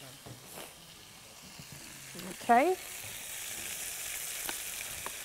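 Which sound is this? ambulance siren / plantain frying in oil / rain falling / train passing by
plantain frying in oil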